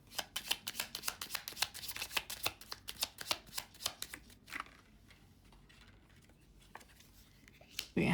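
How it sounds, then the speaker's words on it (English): Tarot-style cards are pulled from a deck and shuffled for a reading, a run of quick riffling snaps close by that stops partway, then a few scattered card taps follow. "I just want to pull the cards out."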